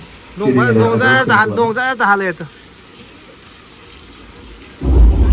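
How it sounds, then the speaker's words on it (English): Artificial film-set rain from a sprinkler system on a studio backlot. It hisses faintly in the background while someone talks, then rushes in as a sudden loud downpour at the end. "So there it falls dramatically from the sky. It's a sprinkler system."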